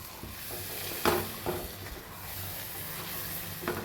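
Egg curry being stirred in a pan with a spoon, the steady sizzle and hiss of frying broken by a few scraping clinks against the pan.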